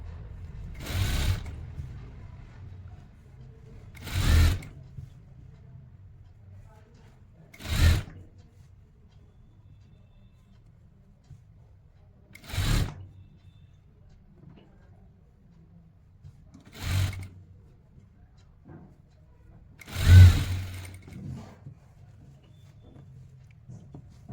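A sewing machine stitches the seat section of a pair of pants in six short, separate bursts spaced a few seconds apart, each a brief whirring run, with quiet pauses between them.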